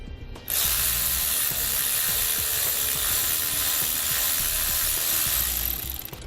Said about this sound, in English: Now we're going to use a 5/32 Allen key and a 3/8 wrench, and we'll take some of the slack out of that bolt there.